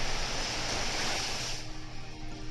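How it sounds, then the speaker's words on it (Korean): Blastoise uses the move Surf in the video game Pokémon X: a loud rushing wave of water surges, then quickly fades into a softer wash. "자 거북왕으로 파도타기 한번 쓰면 될 것 같네요"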